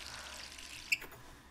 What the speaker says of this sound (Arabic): سكرت المي